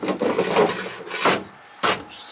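A rod locker for a tiny boat is cut down to size with several separate, rough sawing strokes that rasp against the material, each one close and fairly loud, with short pauses between them and no talking.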